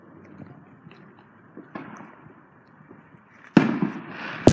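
A consumer firework goes off outdoors, with faint crackles and pops building to a loud burst and a final sharp bang near the end.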